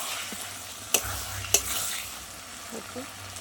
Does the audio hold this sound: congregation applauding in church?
no